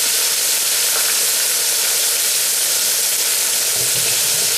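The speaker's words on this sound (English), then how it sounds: "It doesn't take it but about maybe 5 minutes or less to fry in the grease" Soft shell crabs fry in hot grease with a loud, steady, dense sizzle that holds unbroken from start to finish, no voices.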